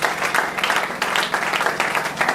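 A church congregation at a worship service applauds in a steady, dense burst of clapping that stays loud and even throughout, with hardly any voices over it.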